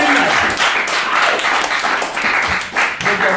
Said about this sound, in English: We need real claps.